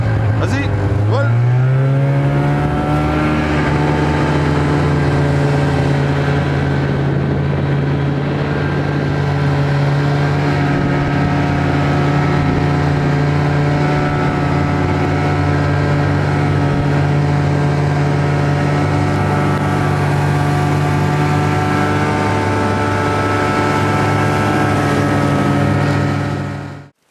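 A snowmobile engine runs loud and close throughout, rising quickly in pitch as it sets off and then holding a steady, droning roar while travelling for the rest of the stretch.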